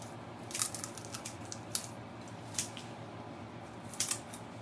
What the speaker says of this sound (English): And we can trim some of these long pieces off.